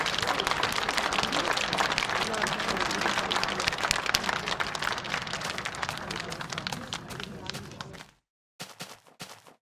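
A livestream applause alert plays as a dense, loud burst of clapping and crowd noise for about eight seconds, cutting off abruptly, followed by a few fainter scattered sounds.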